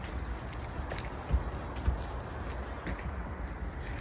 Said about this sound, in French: commence à pleuvoir